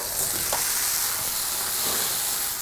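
Lion's mane mushroom steaks fry in hot oil, a steady close sizzle and crackle that holds without pause and has no voices over it.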